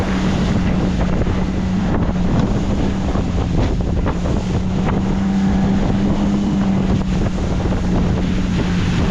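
An aluminum motorboat engine drones steadily at about 3700 rpm, nearly 30 km/h in a storm, steady hum under rushing wind and slapping waves, loud and close throughout.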